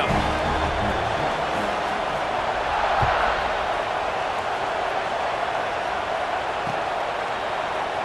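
Broad, steady roar of a packed football stadium crowd at an Ohio State versus Wisconsin kickoff, a continuous wash of cheering voices at an even, fairly loud level with no break.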